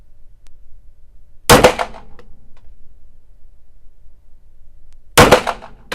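A custom CZ Shadow 2 pistol fires two loud, sharp shots a few seconds apart on a shooting range, each crack followed by a short fading echo, with quiet in between.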